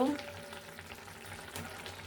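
Cauliflower tipped into a pan of partly cooked winter vegetables, giving a steady close sizzle and frying hiss with a brief louder burst at the start and light stirring throughout.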